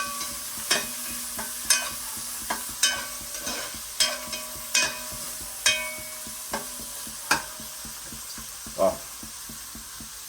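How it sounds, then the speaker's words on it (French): Onions sweat and fry in a pot under a soft constant sizzle while a spoon scrapes and knocks against the pot in a regular rhythm about once a second; a voice speaks briefly. "J'ai lâché mes oignons. Je les laisse suer, laisse-les bien à faire."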